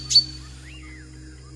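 A cartoon character imitates a bulbul bird's call: a quick, bright chirp followed by a soft, rising-and-falling whistle, both brief and clear over a quiet background.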